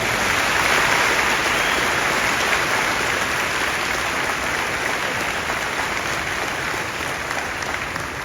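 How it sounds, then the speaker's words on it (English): A large crowd in a school gym gives sustained applause at a Veterans Day assembly, a dense, even roar of clapping that holds steady throughout. "let's give a big round of applause"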